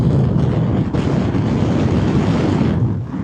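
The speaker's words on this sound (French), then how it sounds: "Et le vent, il va se calmer de suite le vent." Strong outdoor wind buffets the microphone in a loud, continuous roar that rises and falls slightly, with no voices over it.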